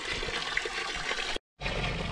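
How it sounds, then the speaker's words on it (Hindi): Tap water runs steadily at an outdoor spot in Joshimath while someone washes their face; a close, continuous splashing flow with a brief silent break near the end. "तो यहाँ पानी आ रहा है गाइस, यहाँ हम धोएंगे मुँह"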